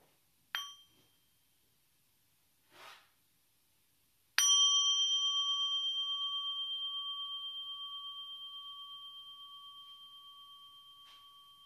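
A small meditation bell struck once to pause the talk, after a few faint clinks, ringing out with a long, pure tone that slowly fades over several seconds. No one speaks.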